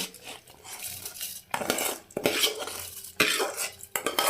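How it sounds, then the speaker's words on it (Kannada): Soaked rice tipped into a pot of boiling water for dill rice, heard as close scraping, clinking metal-utensil strokes and splashy pours in several bursts, with no talking. "ನೋಡಿ, ಈಗ ಅಕ್ಕಿ ಹಾಕ್ಕೊತಾ ಇದ್ದೀನಿ"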